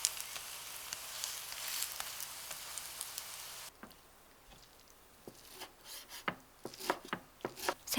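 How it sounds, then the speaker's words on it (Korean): Rapid knife chopping of kimchi on a board, a steady dense run of cuts at first, then scattered sharper individual chops after a brief pause; close and moderately loud. "새콤한 맛을 내는 김치는 잘게 다진다."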